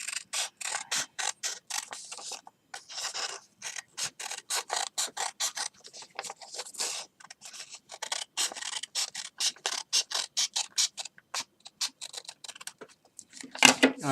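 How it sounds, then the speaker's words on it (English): Scissors snipping through paper while cutting out parts of a flyable paper Yak-130 jet model, a long run of quick, crisp close-up snips in irregular bursts with brief pauses, heard alone. "you're going to take your scissor and cut this part off."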